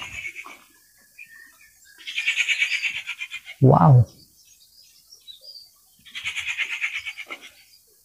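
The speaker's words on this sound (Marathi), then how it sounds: "तुम्ही पक्ष्याचा आवाज ऐकला का?" A forest bird repeats a bright, chirping call in two loud bursts, with a brief spoken exclamation between them and quiet pauses around.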